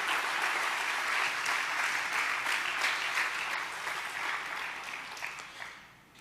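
A church congregation gives sustained, dense applause during a Spanish-language sermon, a loud continuous wash of clapping that holds steady before fading out near the end.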